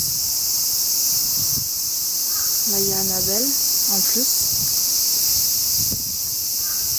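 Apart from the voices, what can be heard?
crickets chirping at a Japanese shrine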